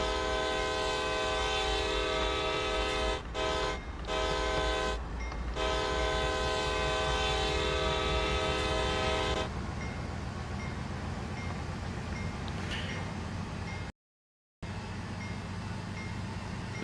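A CSX C40-8W diesel locomotive in Train Sim World 2 sounds a long multi-tone horn in several loud blasts with short gaps, then the horn stops and the engine rumbles on under quieter rolling noise, with a brief dropout near the end.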